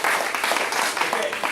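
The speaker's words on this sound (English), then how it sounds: "Give him another big round of applause." A family audience at a martial arts center belt ceremony applauds a young student, a brisk burst of close clapping with some voices mixed in.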